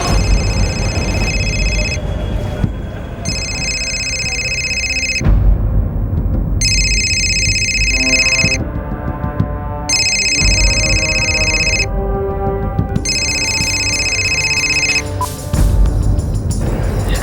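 A telephone rings in a repeating electronic pattern, bursts of high trilling tone separated by short gaps, loud and steady over a low background rumble in a crime drama scene.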